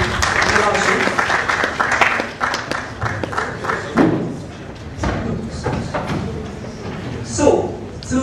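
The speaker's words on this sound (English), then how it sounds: "A round of applause for Jola Osho." An audience at a marketing and agency relations panel event applauds, with clattering thumps and busy crowd noise filling the room at a steady, fairly loud level and brief dips along the way.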